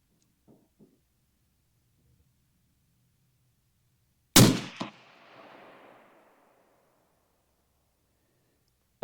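A single loud shot from a Sig Sauer Cross .308 rifle cracks sharply and echoes away outdoors. Faint handling noises come before it.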